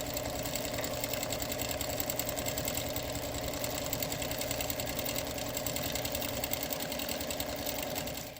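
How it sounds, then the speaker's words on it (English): A quilting sewing machine stitches more quilting into a large flower for an Oak Alley design, running as a steady, continuous mechanical hum with fine rapid needle pulsing throughout, loud and close with no voices. "on pass 2, I'd go back in there and add some more quilting to that big flower"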